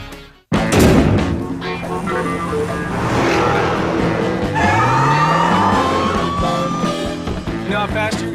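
A Dodge Challenger car with a Hemi V8 accelerates hard in a TV commercial, a loud, close engine roar with rising revs and a whining pass, set under music-like tones and brief voices.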